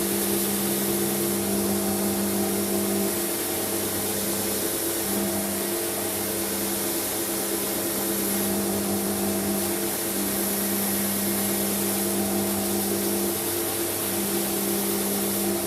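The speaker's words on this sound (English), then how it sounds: "I will take it back to the vertical sander." A vertical belt sander fitted with a fresh belt grinds down a handle, producing a continuous loud motorized whine and steady abrasive roar throughout, with no talking.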